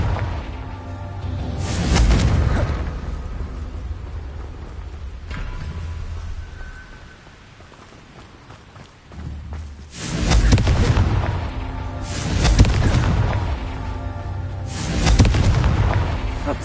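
Spell explosions from the Confringo fire spell in Hogwarts Legacy, a fantasy video game: several loud, booming blasts with crackling tails, spaced a few seconds apart, over a continuous rumbling game backdrop.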